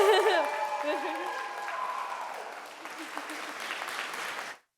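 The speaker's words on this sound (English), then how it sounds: "another big round of applause" Applause for the bride during wedding speeches at the National Arts Centre in Ottawa, steady clapping from a room of guests that fades out, with a voice speaking over the start.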